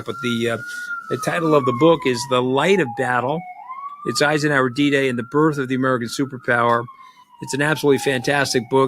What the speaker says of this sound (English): apologize for the sirens in the back